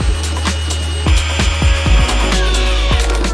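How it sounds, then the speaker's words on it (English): A power drill drives screws into a truck camper bike slide-out in a series of short, loud whirring bursts. Each burst winds down in pitch, repeating in an uneven rhythm close by. "Now we're gonna put the rest of the screws in."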